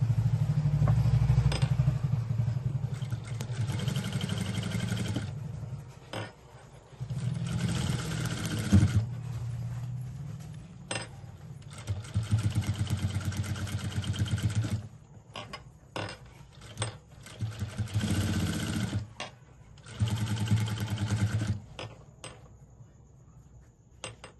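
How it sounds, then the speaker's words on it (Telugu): A sewing machine runs double stitching along fabric piping, in several bursts of steady mechanical whirring separated by short pauses, close and fairly loud. "ఇప్పుడు డబుల్ స్టిచ్చింగ్"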